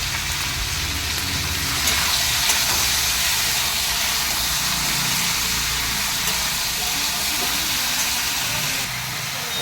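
Okra, potato, tomato and green chilli with salt and turmeric fry slowly in a pan, giving a steady broad hiss that holds loud and even throughout.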